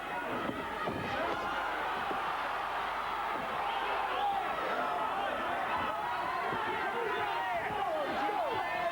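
A Sheffield boxing crowd roars and chants during a bout, a dense, steady wash of voices with occasional thuds, heard from within the arena.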